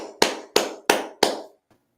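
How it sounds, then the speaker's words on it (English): Four sharp, evenly spaced claps ring out in a church Sabbath service, each a crisp loud strike with a short decaying tail, then stop with only a faint tap after. "let's clap it up"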